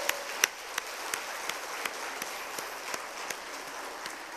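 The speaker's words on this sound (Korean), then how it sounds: "잘하셨다고 생각하시는 분들 다시 한번 격려의 박수 해주시기 바랍니다." A church congregation at a Wednesday worship service claps in steady, sustained applause, a dense wash of many hands with a few sharper individual claps standing out, and no voices on top.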